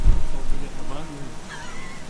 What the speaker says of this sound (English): it's pouring the rain